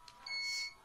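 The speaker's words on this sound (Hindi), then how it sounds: "आप देख सकते हैं बीप आ रही है, मतलब अभी लाइट नहीं है।" A UPS sounds a steady electronic beep while it runs on battery during a power cut. The beep is a single tone lasting about half a second, moderately loud and close, with no talk over it.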